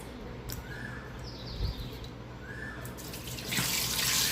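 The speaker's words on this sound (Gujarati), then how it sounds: "આપણે શરૂઆત કરવાની છે દાળ ધોવાથી. હા, આ દાળને 3 વાર ધોઈ લેજો." Lentils (dal) being washed under a running tap at a sink, with steady flowing water swelling louder toward the end, a few bird chirps faint in the background, no talk.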